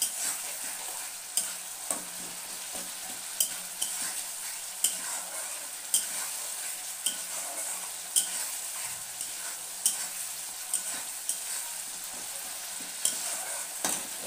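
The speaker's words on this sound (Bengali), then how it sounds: "এই দেখো, আমার মশলা দিয়ে তেলও বেরিয়ে আসছে। মশলাটা প্রায় কষানো হয়ে গেছে।" Spice paste (masala) frying in oil in a pan, a steady close sizzle with regular scraping stirs every second or so, with no talking.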